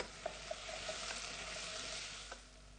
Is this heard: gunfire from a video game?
no